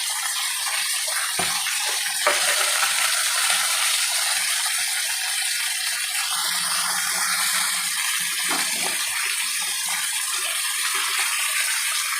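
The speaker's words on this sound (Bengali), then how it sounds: "মাছটা ভেজে নিয়ে আবার আসছি।" Pomfret fish frying in a pan for a Bengali jhal, a continuous loud hissing sizzle with crackling texture that stays steady for about twelve seconds, with no talking.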